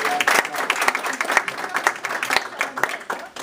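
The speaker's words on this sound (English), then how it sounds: "let's give Mary a round of applause" Audience applause for a speaker named Mary at a Royal Caribbean cruise presentation: dense, steady clapping from a crowd, moderately loud and continuous throughout, with scattered sharper claps standing out.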